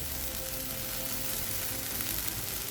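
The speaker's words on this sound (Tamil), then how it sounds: "கொஞ்சம் புளி சேர்த்துட்டு லேசாக வதக்கிக்கலாங்க." Tamarind and chillies sautéing in a pan make a quiet, steady low sizzle that holds evenly throughout without distinct stirring knocks.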